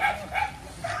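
A dog gives three short, close barks in quick succession during Typhoon Enteng in Montalban, Rizal, with rain noise underneath.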